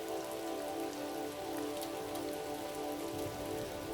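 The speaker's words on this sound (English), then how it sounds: "Sometimes there's too much rain" Steady rain pattering on a surface, a dense continuous hiss with scattered drop taps, loud and close throughout with no voices.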